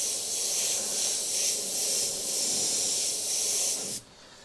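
An airbrush sprays paint over a template for a clown design, a steady close hiss that swells slightly and then cuts off sharply near the end, leaving a faint background.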